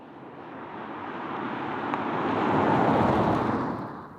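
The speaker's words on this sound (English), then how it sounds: "And now, some more agile driving fun." Tesla Model 3 driven briskly on a winding road, a steady broadband rush of tyre and wind noise swelling gradually louder, heard from inside the car with no talking.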